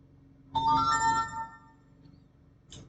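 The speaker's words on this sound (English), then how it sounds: "That's my work phone going off." A work phone rings with a bright, melodic electronic tone for about a second, then fades into a quiet room. A faint chime follows near the end.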